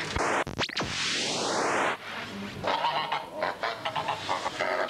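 Loud, close goose honks open the clip, followed by a rising and falling squawk, then a busy jumble of scratchy noises and more distant honking.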